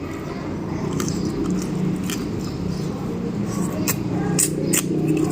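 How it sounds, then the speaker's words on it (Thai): Crunchy chicken cartilage from a chicken and banana-stem curry is chewed close to the mic, with sharp crisp snaps spaced irregularly over a steady low background hum. "กระดูกอ่อน กรุบกรอบเมาะครับ"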